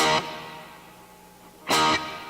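Electric guitar run through a particle reverb effect during a live gear show: two loud bright strummed bursts, one at the start and one near the end, with a long shimmering wash of reverb tail filling the gap between them.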